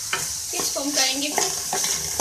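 Chicken tossed with chopped green chilies and crushed red chilies sautés in a pan with a loud, continuous sizzle, stirred briskly so the spatula scrapes and clacks through the frying, with no voices.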